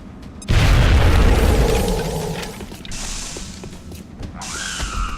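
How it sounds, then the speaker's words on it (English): A grenade blast in a video game lands as a loud, deep boom with a rumbling tail, followed by fainter mechanical clanks and a rising whoosh of game effects. "We grenade that one, that'll kill the one in front."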